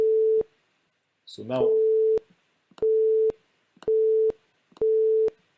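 A steady synthesized oscillator tone sounds in short bursts, starting and stopping as a mouse button is pressed and released, four or five clean beeps with a brief spoken phrase between them.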